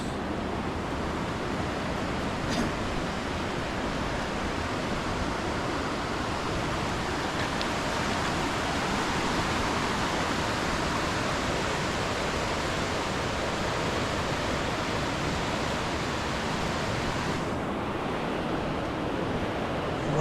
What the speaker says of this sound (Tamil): இதை பாருங்கள், இது ஒரு ஃபால்ஸ்.